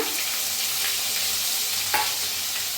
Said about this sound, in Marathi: तेल चांगलं तापलंय त्याच्यात टाकूया अर्धा चमचा मोहरी अर्धा चमचा जिरं थोडंसं टाकूया हिंग हिरवी मिरची आणि लसूण